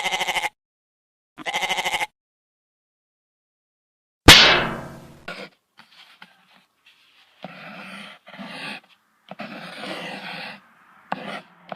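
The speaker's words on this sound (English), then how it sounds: "goat" A goat bleats in loud, separate calls: two short bleats, a sharp burst, then a run of further bleats with gaps of silence between them, with no talk.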